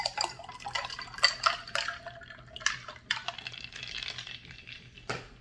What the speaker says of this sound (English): I want to move it from this to, so I put ice and basically water in here